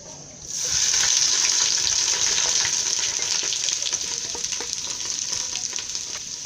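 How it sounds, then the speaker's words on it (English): Palm oil heats in a cooking pot to bleach it, giving a loud, steady, close sizzle and crackle that starts abruptly and hisses continuously with faint popping. "So I'm going to allow this oil to cook for at least 2 minutes for it to bleach."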